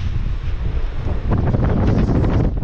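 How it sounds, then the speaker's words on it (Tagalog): Strong wind roars and buffets the microphone nonstop, a loud rumbling gust with a brighter rush rising in the second half. "Ay, lakas ng hangin."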